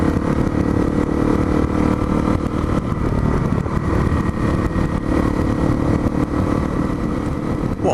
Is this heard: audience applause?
no